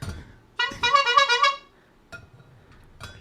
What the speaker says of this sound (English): hashtag quadruple honk